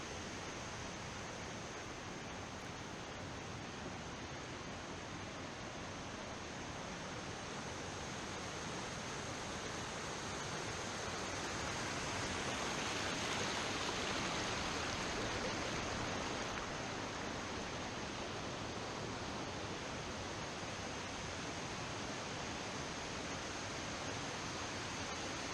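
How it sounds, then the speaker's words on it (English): Steady broadband rush of waterfalls on the Falls River, continuous and full, swelling slightly louder midway before settling back to an even roar with no voices. "there's something nice about the white noise of waterfalls"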